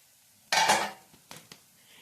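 A lid lands on a cooking pot of rice cake with dry fruits, one loud close metallic clank followed by two lighter taps as it settles, with no talk.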